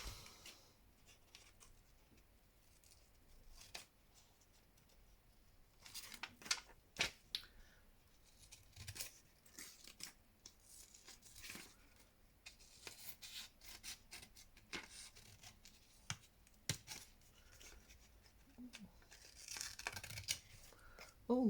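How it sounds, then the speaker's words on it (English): Scissors trim around the edge of a handmade paper tag in a quiet craft setting, with irregular crisp snips and paper rustles close by, some in quick runs and others with short pauses between them. "And then trim all these off."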